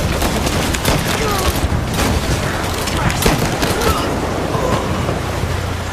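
Dense bursts of gunfire in Mafia: Definitive Edition crackle over a noisy, roaring background, with sharp shots scattered throughout at a loud, steady level.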